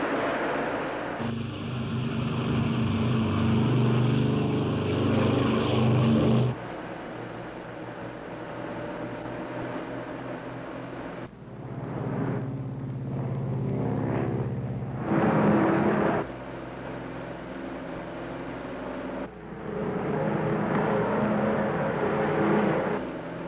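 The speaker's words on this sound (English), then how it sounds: "Ready for takeoff. Takeoff power. Takeoff now." A 1953 Lockheed Super Constellation propeller airliner taking off, heard from inside: a loud, droning engine roar that swells and shifts in pitch with steady tonal hum, continuous throughout.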